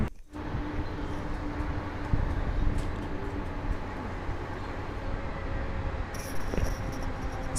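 A 12-car Mumbai local train rolling into Sanpada station on the Panvel to CSMT line, heard from on board as a steady loud rumble of wheels and carriage noise, with a brief brighter squeal near the end.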